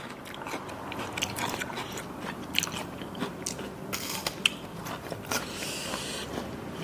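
Shrimp soaked in fish sauce with chili being eaten close up, with repeated wet bites and crunchy chewing scattered steadily throughout, no talking.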